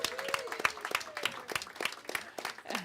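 An audience applauds as someone walks in, scattered quick claps at moderate distance with a few voices and cheers mixed in.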